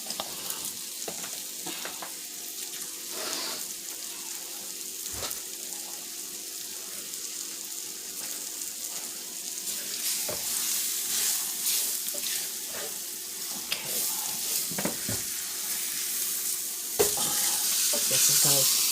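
Seasonings and oil for a vegan tortilla casserole fry in a pan, a steady sizzle with scraping stirs, brief spatters and a faint trickle of water, close and alone without talk.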